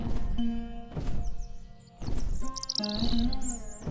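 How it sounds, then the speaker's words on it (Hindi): Chirping calls of a myna, a large, quick bird, come in several bright, close bursts over a steady background with short gaps between them. "तभी एक मैना पक्षी, जो आम मैना से आकार में बड़ी और चाल में तेज थी, उड़ती हुई आई"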